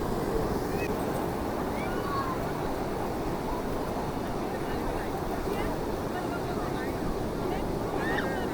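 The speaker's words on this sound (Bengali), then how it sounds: "দেখো একবার ঢেউটা দেখো, দেখো কত বড় বড় ঢেউ আসছে দেখো বন্ধুরা" Big ocean waves roll onto the sea beach at Puri in a continuous, rumbling surf, steady and fairly loud, with wind buffeting the microphone throughout.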